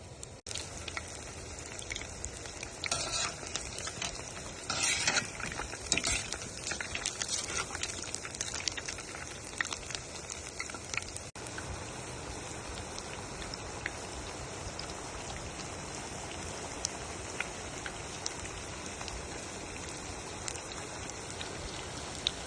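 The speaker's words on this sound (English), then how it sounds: "I'm just dropping in the cauliflower, and we'll fry for like 4 to 5 minutes until they're crisp on the outside." Cauliflower pieces deep-fry in a pot of oil with a dense, steady crackling sizzle that runs evenly throughout, close and continuous, with no voices.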